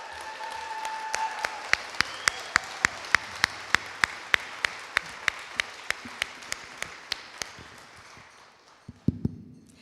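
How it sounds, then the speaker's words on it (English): Applause at a community awards ceremony, with distinct individual claps ringing out in an even rhythm against a soft crowd background, slowing and fading toward the end before a few final knocks. "Please join me in celebrating Brooke with a big round of applause."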